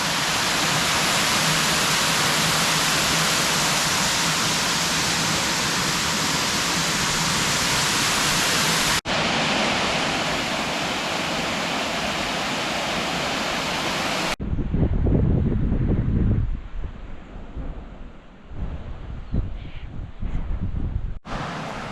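Splitter Falls in the Grampians running full after heavy rain, a steady loud roar of rushing water with wind buffeting the microphone, ending in a quieter, rumbling stretch.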